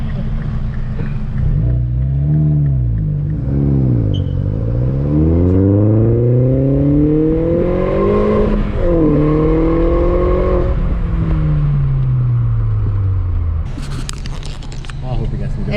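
A MINI Cooper N14 engine revs repeatedly, its pitch sweeping up and down in several long rising and falling pulls, loud and close, with a brief burst of noise at the end.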